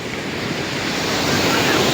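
Sea waves washing ashore in a steady broadband roar with wind noise on the microphone, continuous and fairly loud throughout, with no voices.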